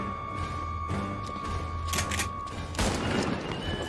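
Gunfire from a TV drama plays through a speaker in a room, a muffled series of booms and shots under a steady electrical hum and background sound, with a louder burst near the end.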